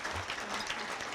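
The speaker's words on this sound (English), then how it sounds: "May I have a round of applause, please, for the great Rochelle Riley?" Attendees at the 2023 Michigan Journalism Hall of Fame applaud journalist Rochelle Riley, with a steady wash of clapping throughout.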